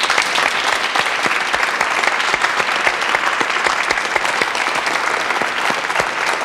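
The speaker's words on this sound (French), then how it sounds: "on applaudit Gorby." Loud, sustained studio audience applause on a French television game show, dense and even throughout with sharp individual claps popping out of the wash.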